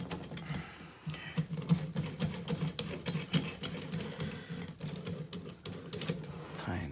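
Ratcheting clicks from a Ridgid Model 226 in-place soil pipe cutter as its chain is tightened around a pipe, a steady run of close, quick mechanical clicks with a low hum beneath.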